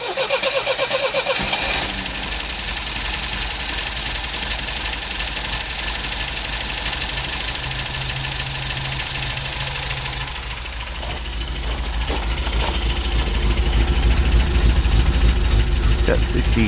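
An engine runs rough with its choke held overridden, a loud close-up rumble that stumbles and surges unevenly, swelling heavier toward the end.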